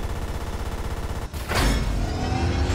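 A single gunshot fired in a VR video game, a sudden loud burst midway after a steady rhythmic background, followed by a lingering noisy tail.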